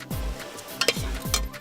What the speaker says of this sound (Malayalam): ഉള്ളി നന്നായി വഴന്നു വരുന്നുണ്ട്.